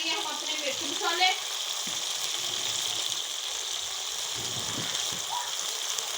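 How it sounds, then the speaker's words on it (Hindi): Onions with garlic and ginger frying in a pan, giving a steady, moderately loud broadband sizzle throughout, with a few faint stirring scrapes near the start and no talk. "अब प्याज़ों को अच्छी तरह से हम भून लेंगे"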